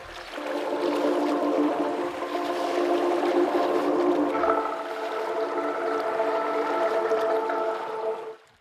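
Synthesized sea noise from a free software instrument, a broad washing hiss layered with sustained tonal drones that swell slowly and hold steady for several seconds before cutting off at the end.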